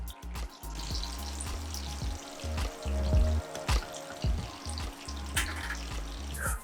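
Pork frying in a pan for an Italian pork sandwich, a continuous moderate sizzle with bubbling, uneven surges and occasional sharper pops, close by with no talking.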